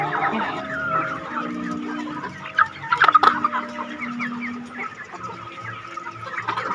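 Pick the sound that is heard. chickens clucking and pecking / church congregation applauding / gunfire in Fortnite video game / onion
chickens clucking and pecking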